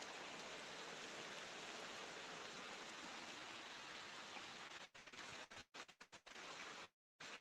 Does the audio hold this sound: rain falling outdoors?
yes